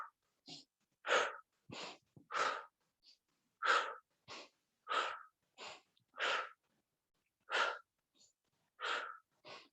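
Deep yoga breathing in a calm session, a steady rhythm of separate breath bursts, slow inhales alternating with audible exhales, close and clear over silence between them, about a dozen breaths in all.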